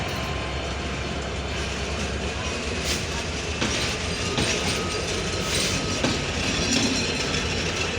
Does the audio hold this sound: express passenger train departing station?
yes